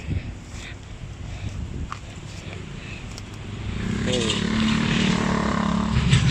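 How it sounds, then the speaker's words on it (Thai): Road traffic runs past a house garden in Bang Pu, Samut Prakan, a steady engine rumble that swells louder toward the end, with wind and someone talking over it. "รถวิ่งตลอดเลยครับ เสียงดังนิดนึง"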